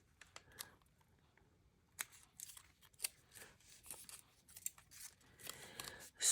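Scissors snip through office label sheets in a handful of quiet, separate crisp cuts, with faint paper rustling between them and a louder rustle at the end.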